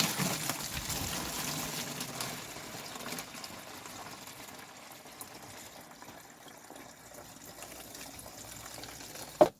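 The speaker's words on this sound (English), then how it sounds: "I'm going to fill up this bottle with some water." A bottle is filled with water at a garden watering station for a homemade drip system. A faint, steady stream of pouring water runs for several seconds and ends with a sharp knock.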